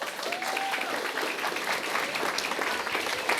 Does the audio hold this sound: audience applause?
yes